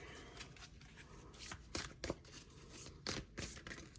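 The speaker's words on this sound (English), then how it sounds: "We're going to shuffle and get 1 tarot card." Soft, quick riffles and flicks of tarot cards being shuffled close up, in irregular bursts, fairly quiet with no talking.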